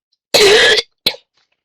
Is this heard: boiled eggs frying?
no